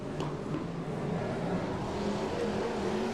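BriSCA Formula 1 stock cars race around a drying oval track in a heat, their engines a steady, continuous roar that holds at close range with no voices over it.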